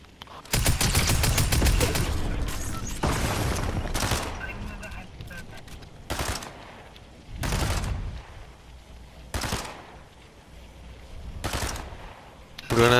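Gunfire in the Fortnite battle royale game: a dense burst of rapid shots up front, then separate loud volleys spaced out over the following seconds, with players talking.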